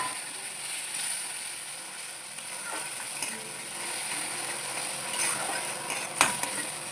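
Spices fry in a pan with a steady, even sizzle and soft intermittent scraping as they are stirred, with one sharper clatter near the end.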